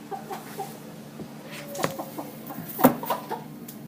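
A molting hen clucks during a veterinary health exam, giving several short, close clucks over quiet room noise and handling sounds.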